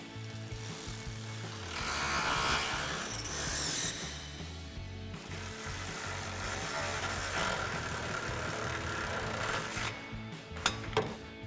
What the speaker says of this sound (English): Now we can go ahead and tighten down these bolts with our 10mm socket extension on our ratchet.